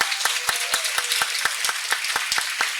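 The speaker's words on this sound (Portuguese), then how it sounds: "Vamos fazer um aplauso bem bacana para o Elson." Applause at an academic conference, heard as a close, thin stream of individual hand claps in a loose, uneven rhythm with no talk.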